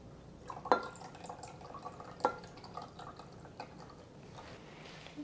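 Regular soy sauce trickles into a pot of Taiwanese beef noodle soup, with soft dripping and a couple of sharper splashes over quiet background noise, close by.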